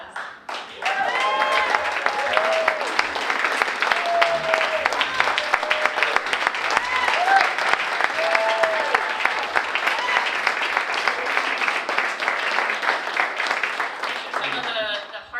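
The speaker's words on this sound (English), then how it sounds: "I'd like my family and my wonderful employees to please stand for a round of applause." Audience applause fills a 2018 Haas Entrepreneur of the Year awards ceremony, a dense, steady wash of clapping that starts abruptly and holds loud throughout, with a voice speaking over it.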